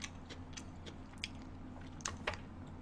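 Someone eats mixed rice with cheonggukjang and seasoned greens during a rainy-night meal, with soft, close chewing and small crunchy bites ticking irregularly over quiet background hum.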